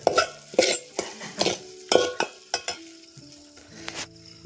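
Onion masala with turmeric, salt, oil and ground paste frying in a pot while a utensil stirs it, giving repeated scraping and clinking strokes in an uneven rhythm over a soft sizzle, close and clear with no talking.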